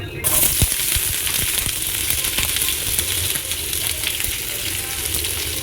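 Chopped onions sizzle and hiss steadily in hot oil close by, with occasional scraping stirs and small pops throughout.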